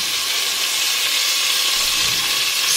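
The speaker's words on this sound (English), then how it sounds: "You just wanna bring this to a nice little simmer." Green spaghetti sauce made with chicken bouillon simmers gently in a pan on the stove, giving a steady, close, even hiss and soft sizzle throughout with no talking.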